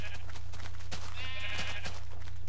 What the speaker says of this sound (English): I have an army of sheep